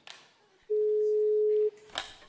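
A phone redialing the last number gives one steady, loud tone lasting about a second, with brief rustling and handling noises before and after it.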